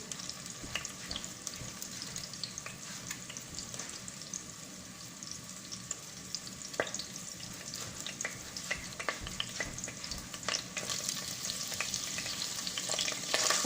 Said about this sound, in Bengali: তেলটা সতে হচ্ছে, আমি একটু আদা কুচি